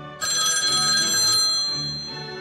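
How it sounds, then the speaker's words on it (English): A telephone ringtone in a Plotagon animation sounds in one loud, bright electronic burst that starts abruptly and trails off into a fading tone, with no talking over it. "Oh? That's my phone."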